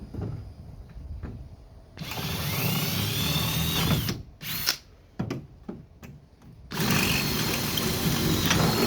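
A drill bores out aluminum rivets on the cross beam of a 16-foot Mohawk Blazer canoe, in three close, loud whirring bursts separated by short pauses and small clicks.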